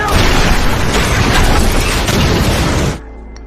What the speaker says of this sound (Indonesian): tiba-tiba ledakan pun terjadi